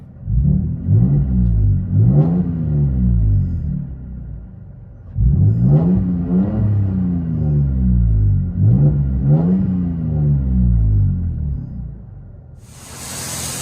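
A Toyota Tacoma 3.5L V6 pickup engine with an aftermarket exhaust revs repeatedly in rising and falling surges, the deep exhaust rumble loud and steady, heard from inside the cab.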